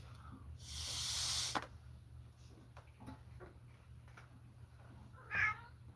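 A cat meows once near the end, a short faint call standing out over a steady low hum and scattered small noises, after an earlier broad burst of rushing noise.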